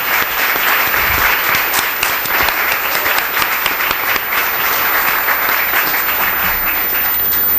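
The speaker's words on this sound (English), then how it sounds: "would you please stand so we can give you a round of applause?" Sustained, dense applause from the audience at a Kern County District Attorney debate, steady and loud for the whole stretch as volunteers are thanked, with no talk over it.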